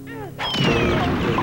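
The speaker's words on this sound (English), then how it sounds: "you can just kill those with, an orange grenade." A burst from an orange grenade in Donkey Kong 64, a booming in-game explosion that follows a short descending game tone and rumbles on for about a second with a thin whistling sweep over it.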